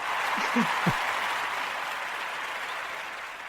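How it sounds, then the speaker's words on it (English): A short round of applause in a podcast setting, a soft, steady wash of clapping that fades gradually, with a brief voice at the start. "here's some applause for you"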